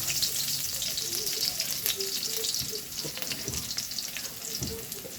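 Garlic frying in hot oil in a pan, a dense close sizzle with crackling pops and occasional stirring scrapes, steady and fairly loud throughout.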